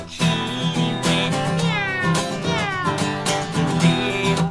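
Within a children's barnyard song, a singer imitates a cat's meow in drawn-out, wavering mews over steady guitar accompaniment, repeated several times in rhythm with the tune.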